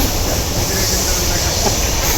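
The Siddheshwar Superfast Express rolls along in a steady, loud rumbling roar heard from inside a crowded carriage, with a dense, unbroken wash of rail noise.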